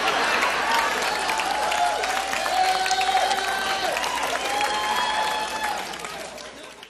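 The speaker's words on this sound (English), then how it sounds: "that's very close to the round of applause that someone gets for being tossed into a volcano" Sustained audience applause with cheering, a dense, steady wash of clapping that holds loud for most of the stretch before thinning slightly near the end.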